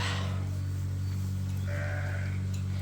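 Purebred Dorset sheep on a farm give a bleat partway through, heard over a steady low hum with a brief noise burst at the start.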